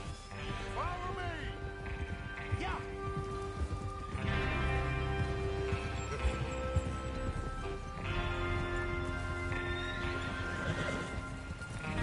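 Horses move through rain in the video game Red Dead Redemption 2, their hoofbeats rolling at a moderate distance with occasional whinnies as speech drifts in and out over the soundscape.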